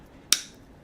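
Cutters snip a guitar string flush with the wound part while restringing a Floyd Rose double locking tremolo: one sharp, close click that decays quickly over a quiet background, with no voices.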